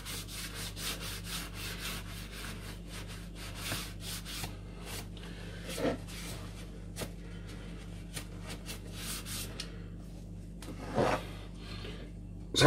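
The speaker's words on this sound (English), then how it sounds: "So I'm just going to go around and wipe the excess off." Excess copper sealant is wiped off the manifold of an Astra Z16XEP engine, giving soft, close rubbing strokes in an irregular rhythm, mostly quiet with a few slightly louder swipes and no speech.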